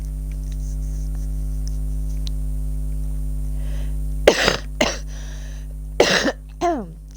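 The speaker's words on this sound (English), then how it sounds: "Sorry about the coughing, guys." A person coughs several times in harsh bursts, the loudest near the end, over a steady low hum of background game music.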